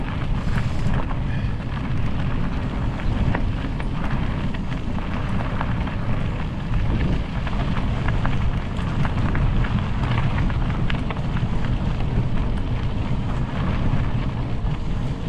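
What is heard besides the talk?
wind blowing on a bike ride, breezy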